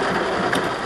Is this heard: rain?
yes